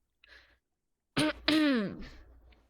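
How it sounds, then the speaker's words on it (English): A man clears his throat in one short, harsh burst followed by a longer raspy rumble, close and alone in an otherwise quiet room. "clearing my throat"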